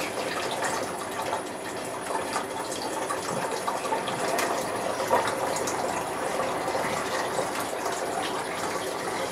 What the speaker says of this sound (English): what I'm going to do is now pour this in.